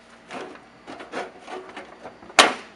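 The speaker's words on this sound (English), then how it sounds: "lift up and pull this case off" The plastic case of a Datamax H4212X label printer is lifted and pulled off, giving soft rubbing and scraping noises that end in a sharp click or snap, close by with no talk.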